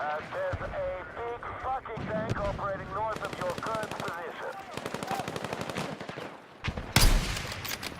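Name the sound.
gunfire and sniper shots in a video game match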